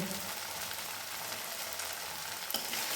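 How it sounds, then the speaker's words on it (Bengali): Steady sizzling and spitting of oil as paneer fries to red-brown in a pan, a constant bright hiss with a light clink of a utensil near the end. "আমার পনিরগুলো কিন্তু সমস্ত লাল লাল হয়ে ভাজা হয়ে গেছে"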